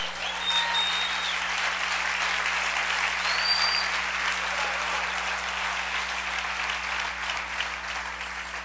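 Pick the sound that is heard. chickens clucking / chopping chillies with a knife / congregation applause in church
congregation applause in church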